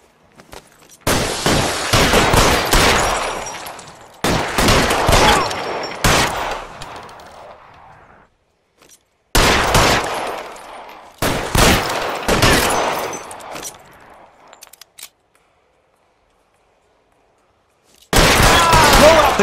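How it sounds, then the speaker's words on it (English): Gunfire in L.A. Noire, the crime game, arrives in loud close bursts of rapid shots, four separated volleys with short silent gaps, then a final burst starting at the end. "The guns!"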